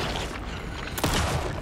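Gunfire in the video game Alan Wake II: a single sharp, loud shot cracks out about a second in, followed by a decaying boom over a dense, noisy game soundscape.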